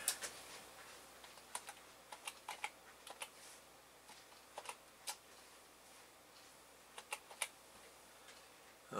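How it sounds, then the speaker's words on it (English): Typing on a computer keyboard, faint, sparse key clicks in small irregular clusters, close but quiet with no talk. "I'm going to type that over here."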